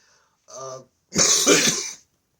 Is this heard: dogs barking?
no